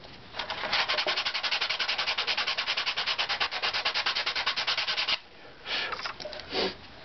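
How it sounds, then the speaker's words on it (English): Sandpaper rubs back and forth on a guitar top plate in quick, even strokes, close and clear, then pauses briefly before a few slower, lighter rubs near the end; nobody speaks. "And we use the sandpaper again."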